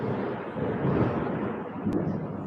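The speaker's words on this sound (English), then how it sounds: "Can you hear the storm?" Low, steady rumble of a thunderstorm with rain, continuous and fairly loud throughout, with no voices.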